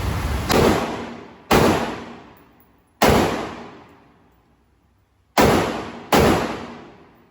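Five loud, sharp gunshots from a Micro Draco pistol at an outdoor shooting range, fired singly in an irregular rhythm with long decaying echoes after each.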